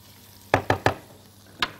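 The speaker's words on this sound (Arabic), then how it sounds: "لازم افضل اقلب كده في البصلايه" Onion frying in a pan being stirred, three quick scraping knocks in a row followed by a single one after a pause, over a faint background sizzle with no talking.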